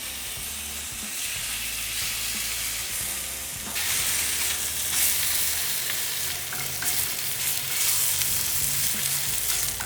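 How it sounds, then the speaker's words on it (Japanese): Pork and kimchi stir-fried hard in sesame oil, a loud, close, continuous sizzle with spatula scraping and tossing that grows more intense partway through, no voices. "これ炒めるというより焼き付けるような感覚でガッと炒めてほしいんですよ"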